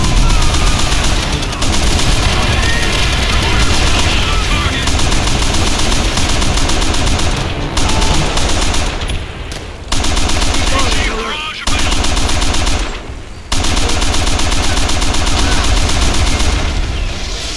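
Sustained machine-gun fire and rifle shots with booming artillery support in the World War II shooter Call of Duty: World at War, loud and dense throughout with a few brief lulls.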